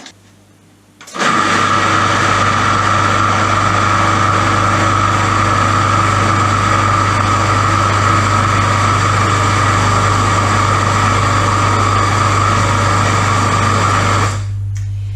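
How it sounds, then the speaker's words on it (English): A blender purees green pea falafel mixture until smooth, starting abruptly with a loud, steady high-pitched motor whine that holds for over ten seconds before cutting off. "We're gonna blend it until it's smooth."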